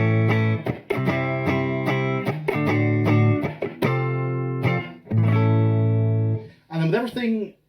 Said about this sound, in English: So here is my cleanish tone neck pickup.